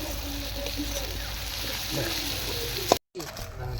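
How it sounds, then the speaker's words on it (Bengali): Ground turmeric, coriander and cumin fry with salt in a hot pan, a continuous close sizzle with light stirring, broken by a sharp knock and a brief dropout before the frying resumes. "এবার একটু মশলাটাকে কষিয়ে নেব"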